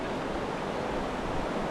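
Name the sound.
river at the mouth of the canyon, Zion National Park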